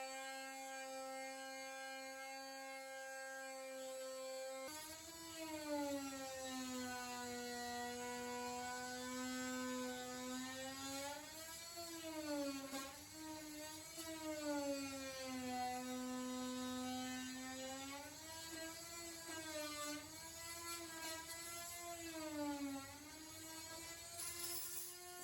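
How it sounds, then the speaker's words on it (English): Dremel multi-tool shaving excess wood off a wall's top plate: a steady buzzing whine that grows louder, then wavers and dips repeatedly under load as it cuts for about twenty seconds, with no voices. "I just go in with my Dremel multi-tool and shave off the excess."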